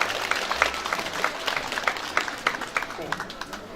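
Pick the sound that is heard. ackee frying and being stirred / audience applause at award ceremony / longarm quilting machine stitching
audience applause at award ceremony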